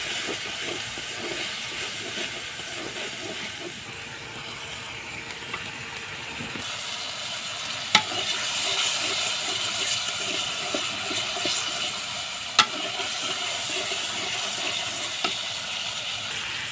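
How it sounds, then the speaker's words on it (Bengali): Garlic, cumin powder, salt and turmeric sauté in a pan for a dried lotia fish bhuna, giving a continuous hissing sizzle with occasional sharp clicks from stirring. "রসুন জিরা গুঁড়ো লবণ হলদি এবার কষে নেব"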